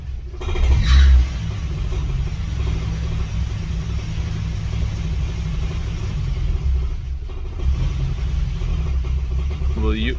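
A BMW E21 car engine idles with a steady low rumble, close by, holding an even drone with slight swells throughout.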